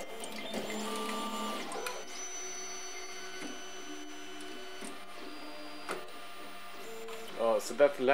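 A BCN3D Sigma R17 3D printer runs with a steady mechanical hum and whine of stepper motors, moderately quiet, and shifts in tone as its moves change. A few brief clicks come near the end, with no talking.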